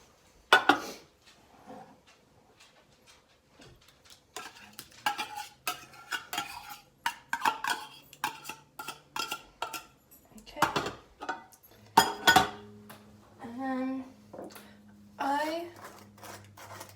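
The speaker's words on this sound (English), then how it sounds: "Just dump all of the contents of both cans into the bowl. And so I'm just going to scrape it all out of there." Metal utensil scrapes canned tuna out of two cans into a bowl in a home kitchen, with irregular clinks, taps and scrapes, some sharp and close, while a person speaks between them.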